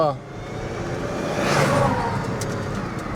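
A car engine idles and runs steadily, a continuous broadband hum with a slight swell in the middle, fairly close and loud throughout.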